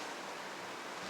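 Steady broadband whoosh of an electric fan running in a room, a faint constant background hiss with no voices.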